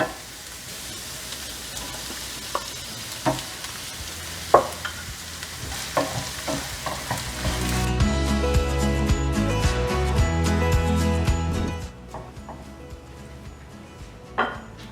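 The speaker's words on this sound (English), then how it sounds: "I'm also going to add in ginger, garlic. After we saute this for a couple of minutes" Ginger and garlic sautéing in a pot for butter chicken, a loud crackling sizzle that swells mid-way with stirring clinks and scrapes of a utensil, close and continuous before settling back down.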